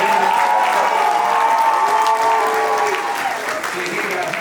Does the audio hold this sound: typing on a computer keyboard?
no